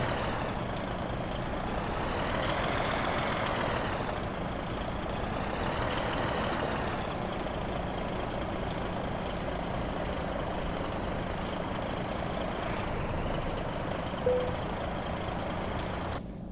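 A truck in Euro Truck Simulator 2 rumbles while parking, its engine droning steadily under faint reversing beeps, with a brief air-brake-like hiss near the end; no one speaks.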